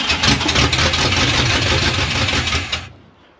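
An engine catches and settles into a loud, steady idle with a low rumbling pulse, then cuts off abruptly near the end, leaving near silence.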